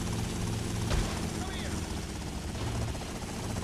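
A helicopter in GTA Vice City flies with a steady, dense rotor and engine drone that holds at a constant level throughout, as a player talks over it.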